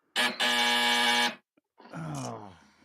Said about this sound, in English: if you hear a buzzer, that means someone said one of our buzzwords